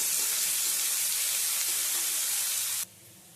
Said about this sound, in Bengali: এবারে এর মধ্যে কুচো করে নেওয়া পেঁয়াজটা দিয়ে দিলাম। পেঁয়াজটা ভেজে নেব।